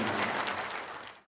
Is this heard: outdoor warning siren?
no